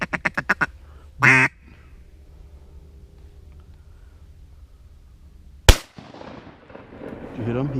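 Shotgun blasts during a Wisconsin duck hunt for mallards: a sharp, loud report near the start and another about four seconds later, with duck quacks beforehand and hunters talking afterward.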